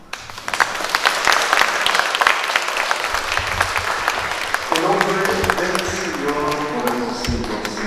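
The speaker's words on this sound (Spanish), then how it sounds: "vamos a dar un aplauso" Crowd applause at a religious festival in Santo Domingo Tonahuixtla, Puebla, dense clapping that later gives way to band music with brass and drums entering midway.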